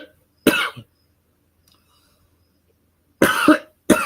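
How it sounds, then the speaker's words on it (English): Someone coughs close to the microphone in three separate bursts: one early, then after a long near-silent pause two more in quick succession near the end, with no talking. "I'm not coughing. You're coughing."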